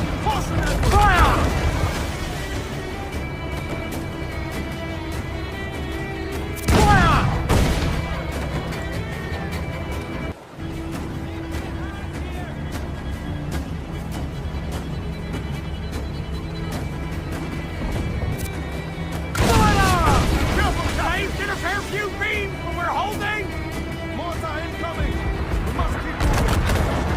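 Ship cannons fire in broadside battles at sea in Assassin's Creed 4 Black Flag: heavy booming volleys and crackling gunfire erupt in big bursts separated by rumbling lulls, with crew members shouting throughout.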